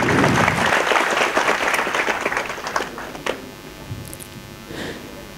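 Audience applause at a seminar, a loud burst of many hands clapping that thins out and fades over a few seconds, with a little crowd murmur at the tail.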